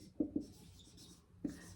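Marker or chalk strokes on a classroom board during a maths lesson, with a few short, soft scratchy scrapes separated by brief pauses, close and quiet with no talking.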